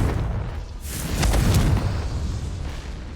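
The Confringo fire spell explodes in Hogwarts Legacy, a loud, broad whooshing blast that swells to a peak partway through and then rumbles off into a lingering roar.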